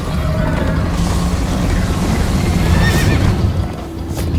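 Hooves pound in a fast gallop while a horse neighs in Minecraft: Story Mode, loud and close, with booming game effects mixed in.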